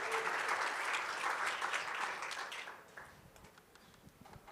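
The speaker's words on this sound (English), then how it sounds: "Miriam and Florian from Meerkat, let's give them a warm round of applause." An audience at a Devcon conference breakout session applauds the presenters as their talk begins. The clapping is thick and full at first, then thins and fades after a few seconds, leaving only a few scattered claps and room noise.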